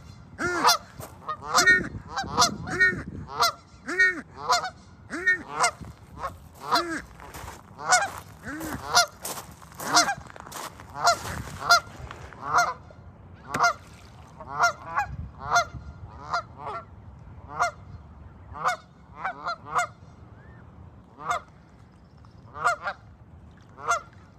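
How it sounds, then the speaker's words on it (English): A group of adolescent ducks on the water call repeatedly in loud, honking bursts, steady and close, continuing throughout with brief gaps between calls. "Okay, those are adolescent ducks."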